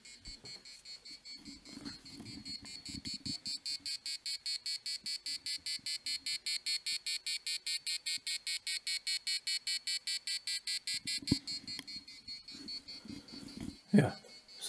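Arduino passive buzzer sounding a long run of rapid, evenly spaced separate beeps with short gaps between them, close and clear, with faint handling noise before and after.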